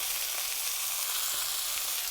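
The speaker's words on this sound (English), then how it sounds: "You can hear that sizzle." Chicken fries in a hot oiled pan, giving a continuous, even, close sizzle with steady crackle and no talk.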